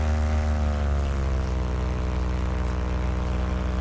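Model airplane motor droning steadily with a propeller whine at an airport, loud and close, pitch holding nearly constant with a slight rise.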